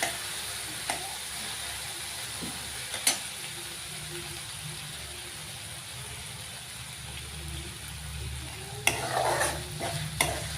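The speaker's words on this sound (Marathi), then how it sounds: "बारीक गॅसवर सर्व चांगलं परतू द्यायचं" Dal and spices fried and stirred on a low gas flame for a dill greens dish, a soft steady sizzle with spatula scrapes and knocks against the pan.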